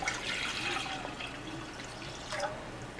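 Water poured into a pan while making lemon coriander detox tea, a steady splashing pour that runs close and fairly loud through the moment, easing slightly and rising again near the end.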